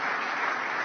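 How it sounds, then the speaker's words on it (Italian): A short burst of audience applause for the mayor of Istanbul, dense and steady throughout, with the crowd clapping together at an even level the whole time. "facciamogli un applauso al sindaco che ci ospita"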